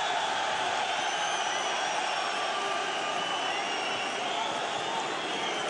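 A French arena crowd at a Bellator MMA event roars in a dense, continuous wash of cheering, loud and unbroken throughout.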